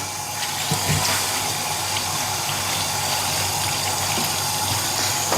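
Tap water runs steadily into a sink while wild herbs are being washed, a continuous broadband gush with faint clinks, close and alone without any talk.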